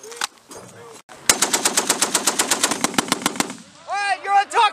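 A machine gun fires in a U.S. Marine live fire exercise, a rapid burst of roughly fifteen loud, sharp, evenly spaced shots, with brief shouted commands before and after.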